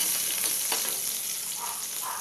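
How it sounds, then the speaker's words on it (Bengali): Onions fry in a hot pan on a home stove, making a continuous close sizzle with faint crackles and a soft stir, heard alone without speech. "পেঁয়াজটা ভাজা ভাজা হয়ে গেছে"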